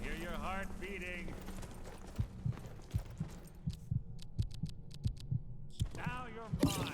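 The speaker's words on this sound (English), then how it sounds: "Hear your heart beating." In Skyrim, a slow, muffled heartbeat thumps steadily about twice a second, low and close, between stretches of whispered and spoken voices at the start and end.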